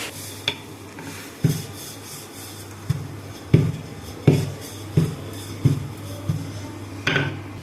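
Rolling out methi paratha dough with a rolling pin in a home kitchen, making soft, regular knocks and rubbing scrapes as the pin pushes back and forth over the board, close and clear, with no voices.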